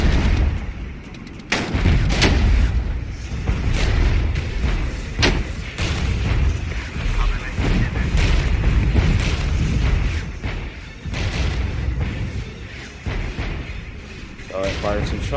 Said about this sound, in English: So I fired some shots, then I'm relocating